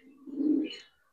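Giribaz pigeon, a high-flyer breed, gives one brief, low coo while being held in the hand, close and soft and rising to a short higher note at the end.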